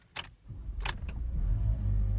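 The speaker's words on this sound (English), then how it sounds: "Start up the car." A 2010 Honda Civic Hybrid starts up with no starter cranking; a few sharp clicks and rustles give way to a steady low engine hum that builds and holds close by.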